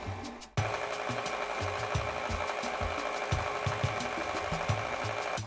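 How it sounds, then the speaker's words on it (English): Electric mixer whirring steadily as it beats pudding to a thick consistency, a close continuous motor drone with a rhythmic knocking, starting abruptly after a brief quiet moment. "go ahead and turn off the mixer and pull this up"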